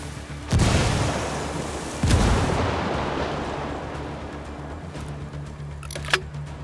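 Frag grenade blasts in the shooter game Ghost Recon Wildlands: two loud, close booms a second and a half apart, each followed by a long fading rumble, then faint clicks.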